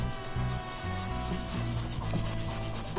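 Rapid, steady toothbrush scrubbing flux residue off an amplifier circuit board close up, a continuous rough brushing rasp with a rhythmic back-and-forth pulse throughout.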